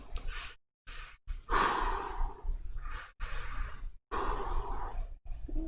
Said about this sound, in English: Even when it gets sucked into my mouth, it's not impeding my breathing.